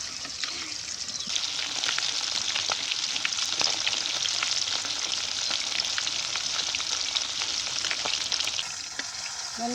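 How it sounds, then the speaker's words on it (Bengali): Fish frying in oil in a pan, a steady close sizzle and crackle with bright spitting pops running throughout, no voices over it. "মাছ তো ভাজা লাগবে।"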